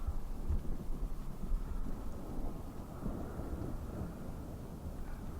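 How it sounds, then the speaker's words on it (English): Low rumble of distant thunder from a late-day thunderstorm rolls steadily beneath wind buffeting the microphone at a desert campsite in southern Nevada, with no talking. "Looks like we got a bit of a thunderstorm moving in"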